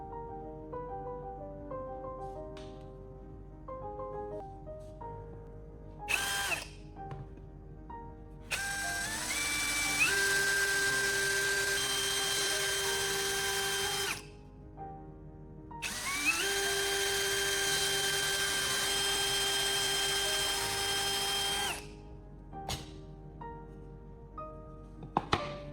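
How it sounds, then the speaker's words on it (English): A power drill bores two holes into a small wooden board, two sustained whirring bursts of several seconds each with a rising pitch at the start, separated by a short pause and framed by quieter handling clicks. "now I'm going to drill at the 2 spots I marked on its surface."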